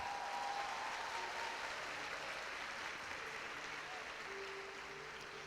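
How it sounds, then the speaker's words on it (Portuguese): Church congregation applauding a woman pastor, a steady wash of clapping from many hands that holds evenly for several seconds and eases slightly toward the end, with no voices on top. "Pode aplaudir"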